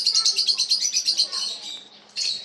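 Italian quails kept in a poultry cage call in a rapid run of high, bright chirps that pause, then resume in a short burst, fairly close and loud with no talk over them.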